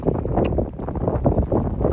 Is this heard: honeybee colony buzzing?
no